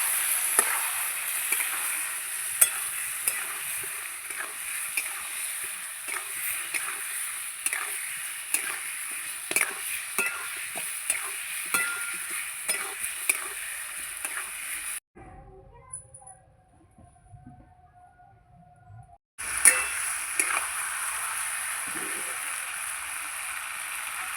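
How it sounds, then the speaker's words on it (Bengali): Spice paste of chili and turmeric powder fries in hot oil in a pan while being stirred, a steady near sizzle with scraping clicks that drops to near silence for a few seconds midway before resuming. "হলুদ গুঁড়ো এবার মশলাটাকে ভালো করে কষাবো"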